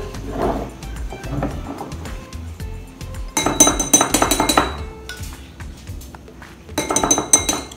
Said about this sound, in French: Maintenant que tu as fait l'étape, tu dois mettre un peu de chocolat dans chaque bol.